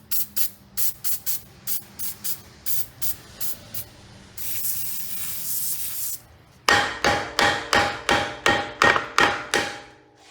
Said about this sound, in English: I'm going to be using some PB Blaster to help break that up